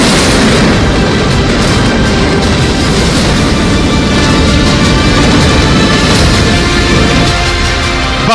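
Dynamite demolition blast bringing down the 32-storey Noida Twin Towers: a loud, sustained roaring rumble of collapsing concrete with dense debris noise, steady and overwhelming throughout, no voices.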